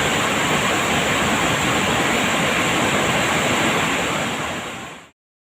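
Water from dams in Idukki released after early monsoon rain, a loud, steady broadband roar of rushing water that holds constant, close and alone, then cuts off abruptly.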